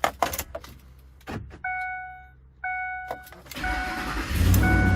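A Ford 5.4L 3V Triton V8 cranks over in short bursts, then catches and settles into a steady, loud idle, running without an exhaust manifold after a replacement engine was fitted.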